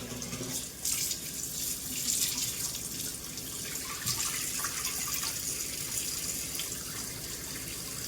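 Tap water runs steadily into a kitchen sink while a bottle gourd pitha is being made at home, a continuous close splashing hiss with no talk.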